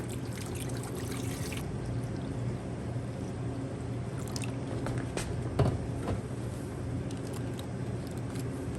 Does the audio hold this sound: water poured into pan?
yes